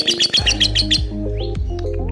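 An adult female lovebird gives a rapid, high trilling chirp in quick repeated bursts, loudest early on, with steady tonal background music underneath.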